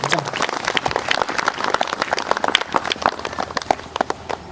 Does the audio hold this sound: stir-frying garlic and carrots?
no